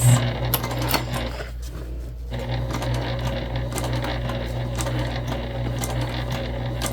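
A sewing machine stitches a crossbody bag near its piping, giving a steady rapid mechanical whir close by with one brief pause partway through.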